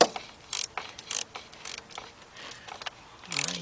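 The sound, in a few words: 3/8 drive ratchet with 10mm shallow socket tightening a nut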